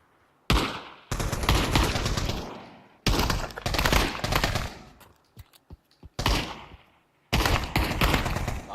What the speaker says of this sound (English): Lots of bullets being fired at each other, but they don't seem to make contact yet